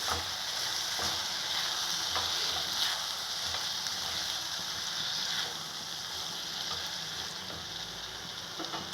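Onion and tomatoes fry in a pan with a dense, steady sizzle, broken by occasional soft scraping taps as the mixture is stirred; close and even, with no speech.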